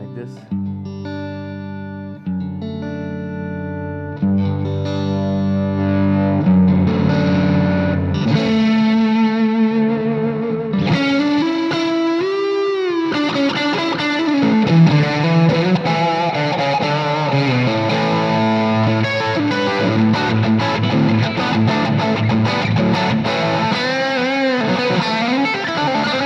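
Electric guitar plays a clean melodic line through an AMP1 amp with a delay pedal, notes ringing out with trailing delay echoes, sustained and moderately loud throughout.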